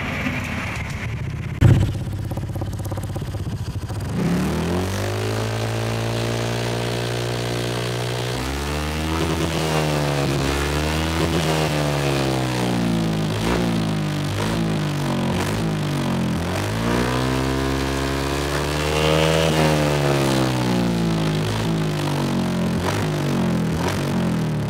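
An older Honda Vario scooter fitted with a standard-style racing exhaust idles, then revs up and down in several long sweeping pulls, loud and close with no talk.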